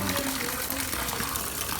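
Water pours in a steady, close gush that stays at an even level from start to finish.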